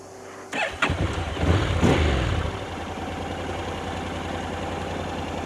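A Honda motorcycle with a DCT gearbox clunks and revs briefly, then settles into a steady, even idle close by, its low mechanical throb continuing alone.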